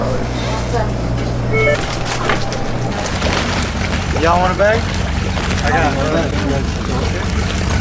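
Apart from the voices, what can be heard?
motorboat engine on Lake Mead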